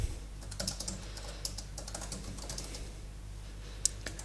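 Typing on an Anker Bluetooth keyboard for iPad: a quiet, steady run of light plastic key clicks at a moderate pace, with one sharper tap near the end, heard close over a low hum with no talking.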